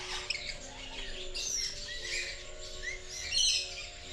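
Large birds call inside an aviary at Fundera Park in Yelagiri, where macaws are kept. Scattered chirps and squawks rise over a dense, steady background of bird noise.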